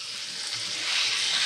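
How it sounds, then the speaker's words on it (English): A cod fillet sizzles in a hot pan, a steady hiss of frying that swells slightly louder toward the end, close and without talk. "You get that beautiful sizzle."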